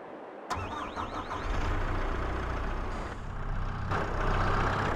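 A skid steer engine in Farming Simulator 22 starts up and settles into a steady, fairly loud running drone that holds without a break.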